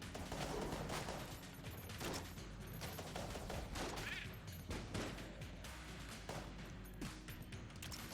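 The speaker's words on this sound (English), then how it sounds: "Fires a lot faster as well. Looks like it occasionally just fires 2 bullets" Rapid gunfire from a fast-firing gun in Enter the Gungeon, a dense volley of quick shots with crashes and impacts throughout, steady and fairly loud, with no talk over it.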